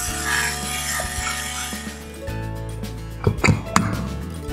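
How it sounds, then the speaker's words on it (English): A VINOWAKE OPENERO fully automatic wine opener whirs steadily as its motor draws a cork from a bottle, a low hum shifting pitch partway through, followed by a few close clinks and clicks at the end. "Now it'll remove the cork automatically."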